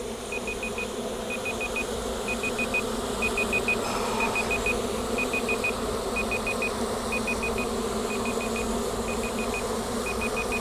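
Honey bees hum around a hive in a constant low drone, with a faint repeating electronic beep pattern pulsing over the buzz, no talking.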